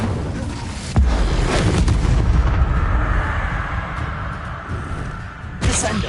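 Incendio fire spell cast in a Hogwarts video game, a loud fiery blast with a whooshing burst of flame and crackling rumble, followed by another sharp burst near the end.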